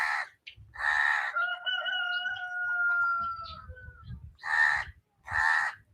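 Birds call loudly in repeated bursts at a Guru Rinpoche incense puja, with crow- or rooster-like harsh cries at the start and end and a long, sustained tonal call in between.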